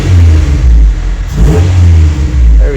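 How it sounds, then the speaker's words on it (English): A Honda Civic EK engine revs hard in a garage, loud, close throttle blips rising and falling twice over a rough idle. "Car revs. Let's make sure it revs and everything."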